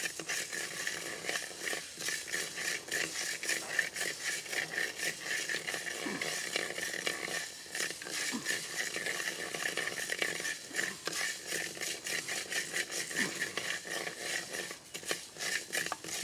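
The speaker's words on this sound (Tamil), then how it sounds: "இதை நாங்கள் வறுத்து கொண்டு வரைக்கும் சிவந்து நல்லா வாசம் வரும்." Ingredients for Jaffna koozh are roasted in a pan with continuous rattling and scraping stirs over a dense, steady hiss. The sound is close and unbroken, with no speech.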